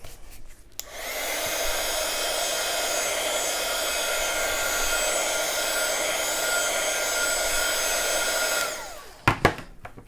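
A hair dryer blows steadily for about eight seconds, drying ink on paper, a constant close whir that starts and stops cleanly, followed by a couple of light clicks.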